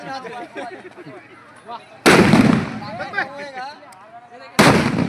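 Firecrackers bursting at a Govardhan Puja village celebration, two loud sharp blasts about two seconds apart cutting through busy crowd chatter and singing voices nearby.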